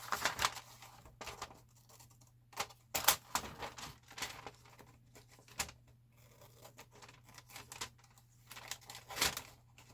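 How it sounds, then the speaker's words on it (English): Scissors cut paper pieces for a handmade journal, giving a string of close, crisp snips and rustles with irregular spacing and a steady low hum underneath. "Yeah, I'm going to go ahead and cut these off."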